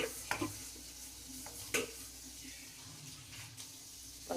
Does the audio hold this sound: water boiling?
yes